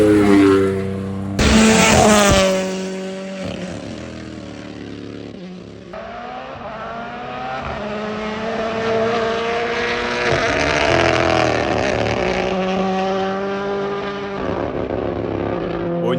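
Loud WRC rally car engines roar past at close range at the Monte Carlo Rally in snow, one after another, with revs rising and falling as the cars speed by.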